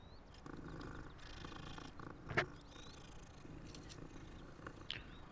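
A cat in the Hogwarts Legacy video game purrs softly and steadily while being petted, a low continuous rumble with a brief brighter chirp near the middle.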